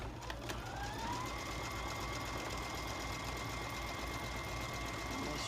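A sewing machine stitches a pillow-cover seam, giving a steady, faint mechanical whir with a rapid needle rhythm that runs unbroken throughout.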